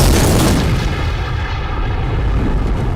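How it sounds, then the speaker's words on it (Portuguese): A grenade blast in the horror film House of the Dead: a loud, sustained booming explosion that rumbles heavily through the low end for the full three seconds, with no voices over it. "com a clássica explosão final"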